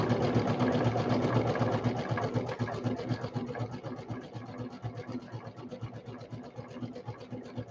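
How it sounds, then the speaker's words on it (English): Sewing machine running a steady zigzag stitch to join two scraps of quilt batting, a fast even mechanical chatter with a hum beneath, close and continuous throughout, easing slightly in loudness toward the end. "you can zigzag these two pieces of batting together"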